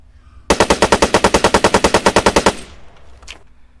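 Spar-17 rifle firing in Arma 3, a loud, close automatic burst of about eighteen rapid shots lasting two seconds, then a fading echo and one faint later sound.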